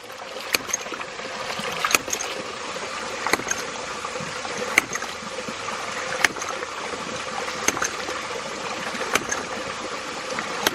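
A ram pump's pipe smacks hard under water pressure, sharp knocks repeating roughly every second over a steady wash of flowing water, moderately close.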